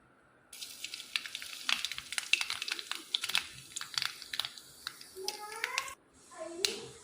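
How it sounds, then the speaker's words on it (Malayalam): Mustard seeds pop and crackle in hot coconut oil, a rapid irregular series of sharp sizzling clicks, with brief voice-like sounds near the end. "ഞാൻ വെളിച്ചെണ്ണ ഒഴിച്ചു കൊടുത്തേട്ടാ ഇനി കടുക് ഇട്ടിട്ടൊന്ന് പൊട്ടിക്കണം"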